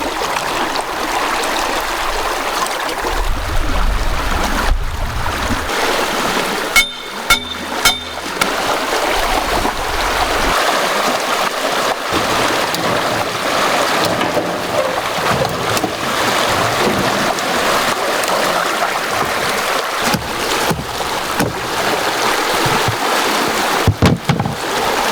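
Fish wheel spinning in the current of Alaska's Copper River, a continuous loud rush of water with sloshing and occasional knocks and clunks from the wheel, close by and without talk.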